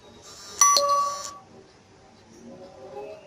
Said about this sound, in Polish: Ten dźwięk, który słyszeliście, to jest WeChat